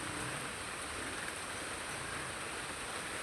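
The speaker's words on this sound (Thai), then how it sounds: "ฝนตก" Steady rain falls in a dense, even hiss, a constant wash of drops with no other sounds and no voices.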